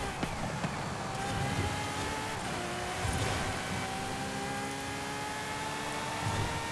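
A Ferrari FXXK Evo race car engine whirs and drones steadily in Forza Horizon 5, with rising tonal lines suggesting revs climbing continuously and close by, without speech.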